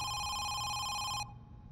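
A video game telephone bell rings loudly in a steady electronic trill, then cuts off abruptly, leaving quiet room tone.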